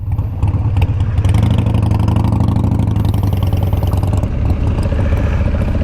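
A 2021 Honda Africa Twin DCT ES motorcycle's engine thrums loud and close during a U-turn, a steady low throbbing drone with slight rises and dips in revs throughout.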